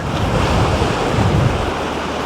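Sea waves wash against the rocks on a wild stretch of coast at Mellieħa, a steady loud roar with wind buffeting the microphone and no voices.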